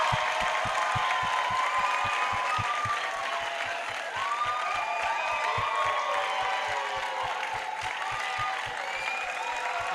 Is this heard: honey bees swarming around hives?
no